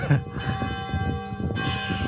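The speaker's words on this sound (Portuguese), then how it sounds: "A igreja tem o seu horário das antigas de bater o" A church bell rings in a small town, a loud, close resonant strike with long humming overtones decaying over about two seconds.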